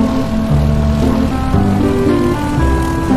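A red airplane flies in Minecraft, giving a steady droning propeller hum that runs continuously under looping game music.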